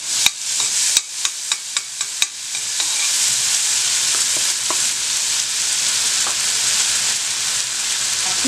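Chopped onion dropped into melted margarine in a pan, opening with several sharp clicks and knocks before settling into a steady, bright, close sizzle that carries on without pause.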